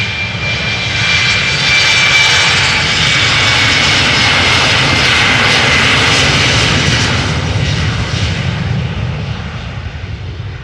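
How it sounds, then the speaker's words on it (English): A KLM Embraer 190 jet roars loudly and steadily at Amsterdam Schiphol Airport, a broad engine rumble with a high whine that holds for about ten seconds before easing slightly at the end. "KLM Embraer 190 flight"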